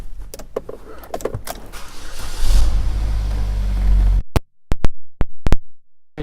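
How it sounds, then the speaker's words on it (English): Power moonroof of a 2013 Chevrolet Equinox opening, a steady electric motor whir that builds and runs for a few seconds, then stops, followed by several sharp clicks and thumps. "power moonroof"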